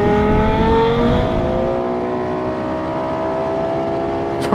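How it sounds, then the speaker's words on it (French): A Lexus LFA engine revs hard through its exhaust, a loud, close, rising high-pitched wail that sweeps upward and holds, with no talking. "ce moteur produise un son incroyable"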